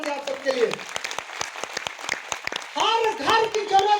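An audience at a meeting breaks into brisk applause, a burst of many hands clapping close by, with voices talking over the start and after the clapping fades.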